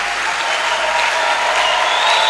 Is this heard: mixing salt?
no